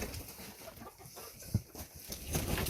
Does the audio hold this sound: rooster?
yes